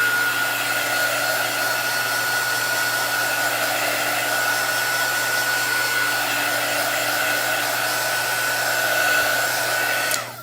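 A handheld hair dryer blows steadily over a chalk paste transfer in a craft project. Its loud, continuous whir holds at an even level for about ten seconds, then cuts off at the end, with no talking.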